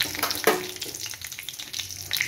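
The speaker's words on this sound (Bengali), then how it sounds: "ফোড়নটা একটু ভাজা হয়ে গেলে" Whole tempering spices sizzle in a kadai of hot oil for a jackfruit kalia, a steady close crackling hiss with a few sharper pops and faint clinks, no voices.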